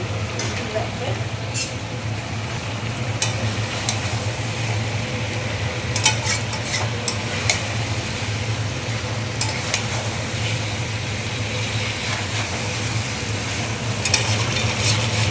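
A meat biryani is stirred in a pan as fried meat pieces are mixed in, giving a steady, continuous frying sizzle with occasional scraping clinks throughout.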